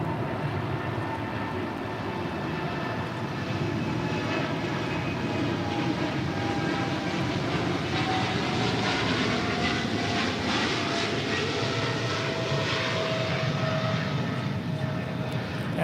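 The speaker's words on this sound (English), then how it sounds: "That is Qatar Cargo 8105 departing to Chicago O'Hare on a 777 freighter." A Qatar Cargo Boeing 777 freighter departs from LAX, a steady broad engine roar holding at moderate distance for the whole stretch, with no voices.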